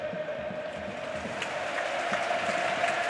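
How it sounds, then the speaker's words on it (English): A football stadium crowd at a Barcelona versus Real Madrid match claps and murmurs in a steady, dense wash of distant applause that holds evenly throughout. "The fans applauding because Barca are keeping possession."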